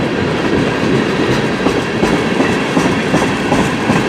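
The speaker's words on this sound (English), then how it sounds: "That is a big train." A long CN mixed freight train rolls past close by, a steady heavy roar with rhythmic clickety-clack of wheels over rail joints, no voices.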